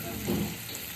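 Sardines fry in a pan, giving a brief, steady crackling sizzle that stays close and even for about a second, with no talking.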